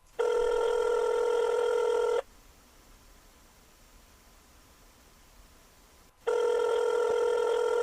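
A call ringing out over the Signal app, with two loud steady electronic ring bursts of about two seconds each, separated by a long quiet hiss.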